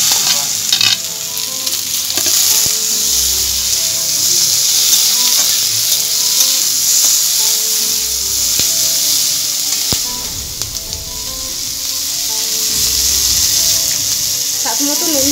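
Capsicum and tomato fry for masala paneer in a pan, a steady loud sizzle with repeated stirring scrapes running throughout, no voice over it.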